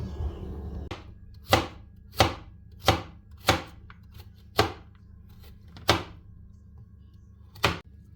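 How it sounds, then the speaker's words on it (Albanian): A knife chops carrots against a board in about eight sharp, evenly spaced knocks, each a crisp close thud over a quiet background. "I grim karrotat."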